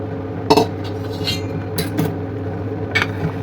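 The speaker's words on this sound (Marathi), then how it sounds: "हे याच्यामध्ये टाकून मी अशा पद्धतीने सगळं फोडणीचं मटेरियल आपलं डाळीमध्ये काढून घेणार आहे" Garlic oil tempering being scraped from a pan into dal, giving a few sharp metallic clinks and scrapes of a utensil against the pan, near and irregular over a low background hum.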